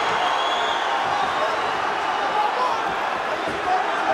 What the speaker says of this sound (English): Crowd pops as Lawler gets back to his feet under a minute to go round one.